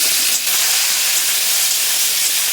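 Small chunu fish drop into hot mustard oil in a pan and fry with a loud, steady, close sizzle that holds unbroken throughout.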